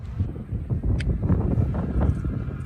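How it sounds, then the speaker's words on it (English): Steady low wind buffets the microphone outdoors in cold weather at a Supercharger stop, a constant rumbling rush with no talking. "It's cold and windy"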